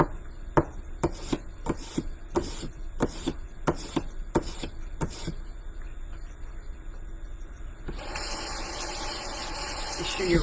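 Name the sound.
kitchen knife being sharpened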